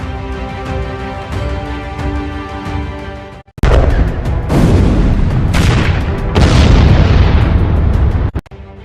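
Explosions in war footage from Mariupol, Ukraine, with a dense rumbling first half, then a series of loud, close booms and crackling blasts that decay and overlap before cutting off.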